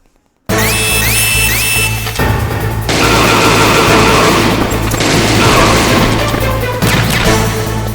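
Rapid gunfire and crashing impacts from the Metal Gear Solid video game, loud and dense, starting abruptly after a brief silence and continuing with bursts throughout.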